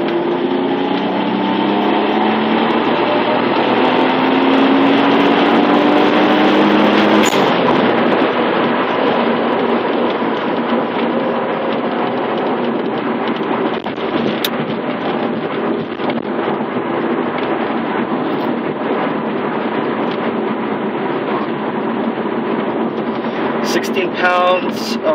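A 1994 Mitsubishi 3000GT VR-4 with a 15G turbo build, maxed fuel and 16 psi boost, roars through a full-throttle pull. A loud, sustained engine drone climbs in pitch, then steadies and holds to the end.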